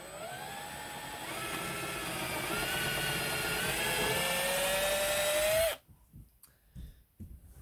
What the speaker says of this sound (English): I have my drill, and to a suitable drill size, I'm going to drill the hole